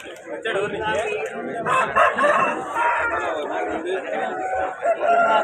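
Nellore fighting roosters crow at a Vijayawada rooster market, repeated loud calls overlapping amid busy crowd chatter and nearby voices.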